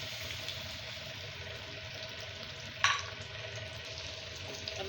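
Two medium onions fry in about half a bowl of oil, giving a faint, steady sizzle with one brief sharp clink partway through.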